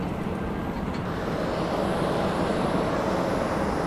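Loud, steady roar of an airplane engine at Hatay airport, a broad rumbling drone that holds constant throughout.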